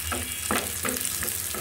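Onion and garlic frying in oil for a papaya dal, a steady close sizzle with a few soft scraping stirs every half second or so, no voices.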